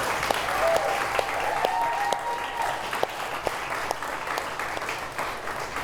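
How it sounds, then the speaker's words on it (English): Audience applause at a mental health awards evening, a steady wash of many hands clapping throughout with a few sharper individual claps standing out, moderately loud and fairly close, with no talk over it. "All of you deserve a round of applause."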